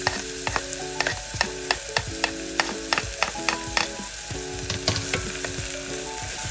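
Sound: onions and green chilies sautéing in oil in a pan

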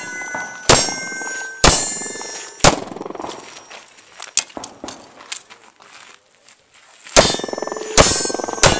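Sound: gunshots hitting steel targets at night shoot

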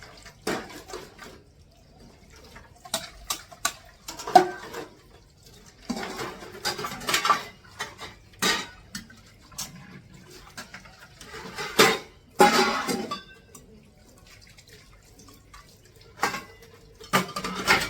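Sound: washing dishes

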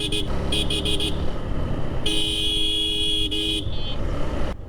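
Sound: car horn honking

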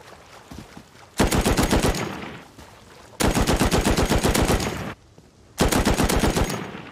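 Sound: LMG light machine gun firing in video game Rust

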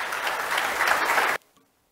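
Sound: audience applause

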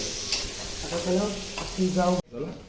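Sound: chicken frying in a pan

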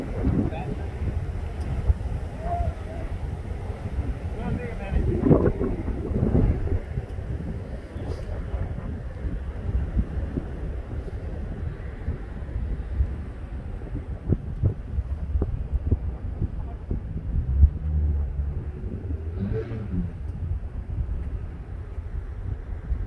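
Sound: wind blowing into the microphone outdoors

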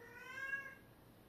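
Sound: cat meowing, in heat

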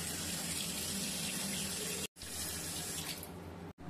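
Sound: water running from a tap while washing hands

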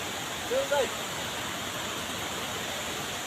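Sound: water rushing down a waterfall in Malaysia

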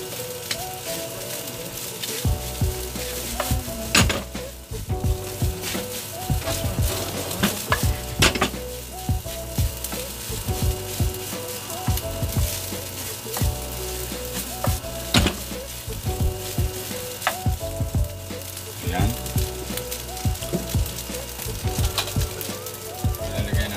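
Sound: stirring fried rice with carrots and chicken in a pan

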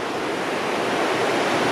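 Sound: water crashing over boulders

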